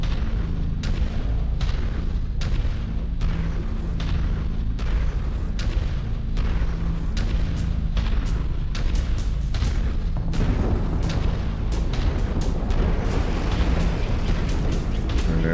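A nuke detonating in the modded video game Mechwarrior 5: Mercenaries: a heavy, continuous rumbling roar with repeated booming impacts, loud and sustained throughout, no voices.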